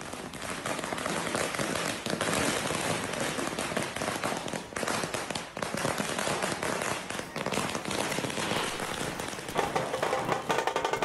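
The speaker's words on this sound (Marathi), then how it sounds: "फटाक्यांची आतषबाजी केली" Firecrackers burst in a dense, nonstop crackling barrage at a street celebration in Maharashtra, loud and close, with rapid overlapping pops and no talk.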